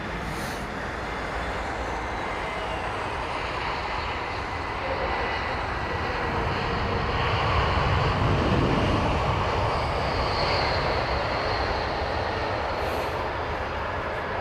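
Jet airliners such as A340-600s and 747-400s roar at London Heathrow, a broad, steady rumbling engine noise that swells slightly in the middle, heard from a distance without speech.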